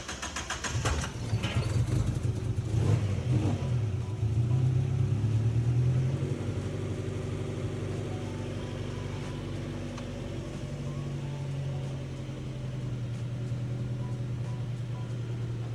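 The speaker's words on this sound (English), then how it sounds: "It is time to drive." A turbocharged car engine revs loudly and then pulls away, its close, heavy rumble settling into a steadier drone as the car drives off.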